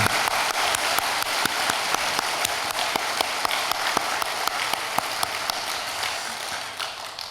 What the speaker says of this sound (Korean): 우리 뜨거운 박수를 다시 한번 보내도록 하겠습니다.